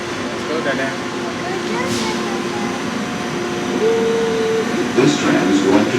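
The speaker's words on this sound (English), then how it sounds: "This tram is going to the D gate." An airport tram heading to the D gate hums and rumbles along its track, with a steady tonal whine rising mid-ride and brief voices talking over it.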